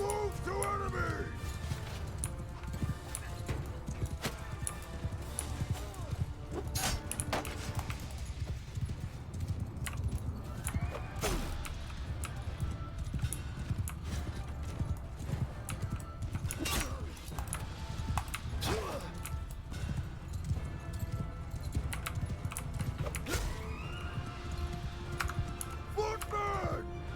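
Cavalry horses gallop across a battlefield in Holdfast, giving a dense, continuous clatter of hooves with battle noise. People shout and talk over it throughout.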